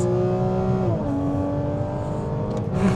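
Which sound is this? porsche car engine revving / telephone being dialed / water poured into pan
porsche car engine revving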